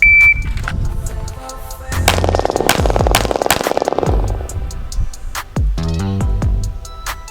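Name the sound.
gunshots fired from kneeling position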